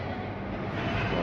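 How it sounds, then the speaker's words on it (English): A Lego toy train runs along its track in a steady, continuous rumbling clatter, fairly close, with no speech. "It's a Lego train."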